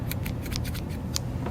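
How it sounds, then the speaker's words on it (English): Scissors snip thread while trimming a knot on a sock monster, a quick series of sharp, close clicks and snips, with a brief pause before a final cut. "And then you're going to take our scissors and trim off"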